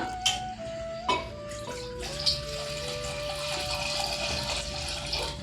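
Water runs steadily into a metal steamer pot, with a few clinks at the start and a rising pitch as the vessel fills.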